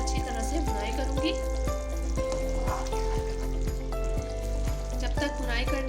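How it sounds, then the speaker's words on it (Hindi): Masala frying in oil in a pan for an egg and potato curry, with a continuous sizzle and spoon stirring under a steady background tone, close and even. "इसको अब मैं अच्छी तरह से भुनाई करूँगी"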